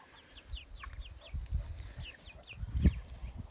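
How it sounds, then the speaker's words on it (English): Several chickens cluck nearby in a farmyard, a quick series of soft, scattered clucks and chirps over a few seconds, with light shuffling and rustling below them. "Hello, chickens."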